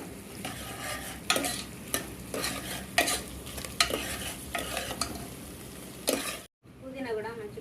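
Green chillies and onions fried and stirred in a pan for spicy country chicken curry, with steady sizzling and repeated scraping strokes of a spoon, a brief gap, then softer frying near the end.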